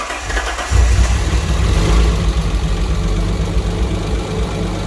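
An Alfa Romeo 147 GTA engine, freshly rebuilt, cranks briefly and then catches, settling into a loud, close idle with a steady low rumble that continues to the end without any voices.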